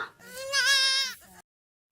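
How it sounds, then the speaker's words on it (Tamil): A young goat gives a single clear, wavering bleat lasting about a second, fairly close and loud, followed by silence. "ஆட்டுக்குட்டி வெளியே தெரியுது பவித்ரா"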